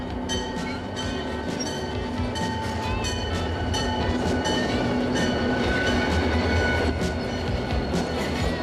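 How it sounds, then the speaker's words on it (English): A freight train rolls along the rails with a steady heavy rumble, rhythmic clicking of wheels over track joints and occasional metallic squeals, loud and continuous throughout. "Freight trains are used to carry all kinds of heavy loads, and they are the workhorses of America's rails."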